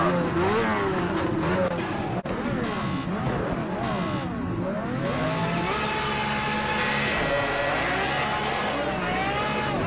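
Race car engines scream and rev at the start of a Project Cars 2 career invitational on the Nordschleife at night, with rising and falling pitch sweeps from multiple cars accelerating together, loud and continuous with tire noise.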